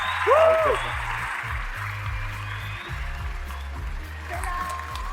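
Audience applause for a singer on the stage of the Turkish TV talent show O Ses Türkiye, a broad steady clapping wash over a rhythmic band beat, with a short sung or shouted vocal near the start.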